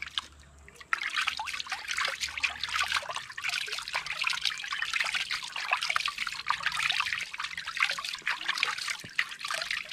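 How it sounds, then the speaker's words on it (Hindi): Water runs and splashes steadily while a hydro-dipped carbon fiber painted part is rinsed clean, a close, continuous trickling hiss with small spattering bursts and no speech. "तभी मैं जाके फिर से इसको पानी से क्लीन कर लेता हूँ"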